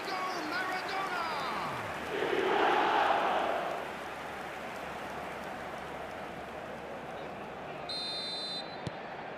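Stadium crowd in an eFootball video game match swells into a loud roar for a couple of seconds after a goal, then settles back to a steady background murmur.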